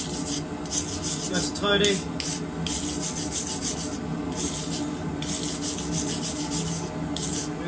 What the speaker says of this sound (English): We're just going to give it a quick brush off